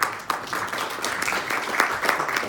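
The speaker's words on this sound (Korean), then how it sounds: "수고해주신 발표자 두 분께 다시 한번 큰 박수 부탁드립니다." An audience at a Sony RX premium high-end camera launch applauds the two presenters, a steady wash of many hands clapping that fills the hall for a couple of seconds.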